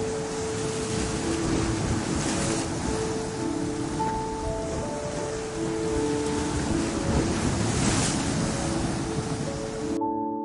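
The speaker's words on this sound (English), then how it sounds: "the rhythmic crashing of ocean waves" Steady roar of ocean surf crashing continuously, with waves swelling and breaking at a loud, constant level and no voices.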